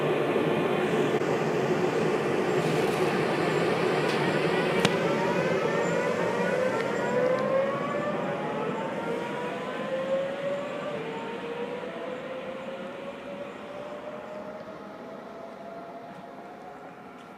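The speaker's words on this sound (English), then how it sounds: "I'm going to let this train pass." A train rolls past with a steady roar and rising, falling whine of wheels and horn-like tones, slowly fading as it moves away.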